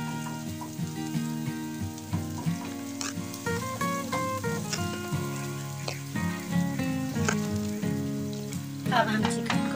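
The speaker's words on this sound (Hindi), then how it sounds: "अब हम चिकन को भून लेंगे इसमें अच्छे तरीके से" Chicken pieces fry with garlic in a hot pan, giving a steady close sizzle and spatter with small crackles throughout and no talking.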